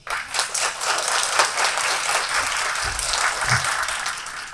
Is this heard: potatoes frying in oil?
no